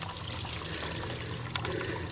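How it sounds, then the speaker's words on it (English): Water gushes steadily from an RV black tank's opened twist-on valve as rinse water drains out nearly clear, a continuous close, even rush with no talking. "now I'm going to do a third dump of the black tank by opening up the twist-on valve"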